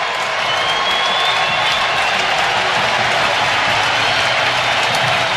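A stadium crowd at an ALCS Game 7 between the Seattle Mariners and the Toronto Blue Jays cheers and applauds in a loud, unbroken roar with a faint whistle in the mix.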